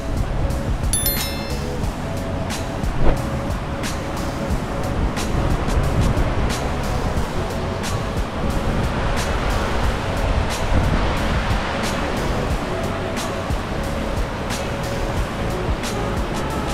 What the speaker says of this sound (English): Hearing that riverbank sound is really refreshing.